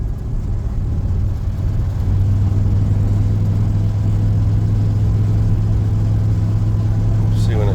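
A 2001 Chevy 2500HD truck with the 6.0 engine idles steadily with a low, constant drone, its tone shifting slightly as the transmission changes gear, close and loud throughout.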